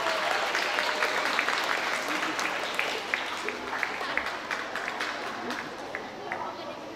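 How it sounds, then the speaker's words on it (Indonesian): An audience breaks into lively applause. The clapping is thick and continuous and fades slightly toward the end, with a few voices mixed in. "Beri tepuk tangan yang meriah."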